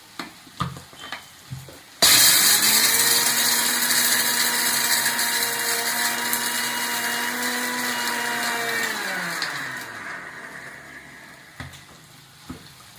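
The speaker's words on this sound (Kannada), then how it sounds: "ಹುರಿದ್ಬಿಟ್ಟು ಮಿಕ್ಸಿಗೆ ಹಾಕೋಣ" A kitchen mixer grinder whirs loudly, grinding roasted gram into powder in one sustained burst of about eight seconds that winds down, with soft clinks before and after.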